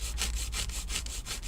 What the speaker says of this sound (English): I'm going to go ahead and start filing. I'm using the Chisel Nail 8080 washable.